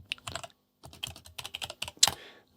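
Typing on a computer keyboard comes in quick, irregular bursts of close, crisp key clicks with a brief pause partway through, and no voice is heard.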